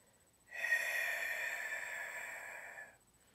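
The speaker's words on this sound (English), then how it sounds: "You can hear it when I breathe out." A single forceful breath pushed out through the mouth from the diaphragm, as in screamo screaming technique, a steady airy rush lasting a couple of seconds, close and fairly quiet.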